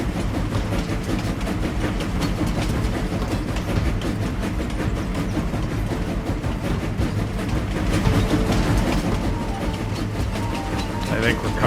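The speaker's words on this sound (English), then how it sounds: "And so that's the train." A train passes in the video game Farming Simulator 25, a steady rumbling roll with rhythmic clacking that swells slightly toward the end, with talk over it.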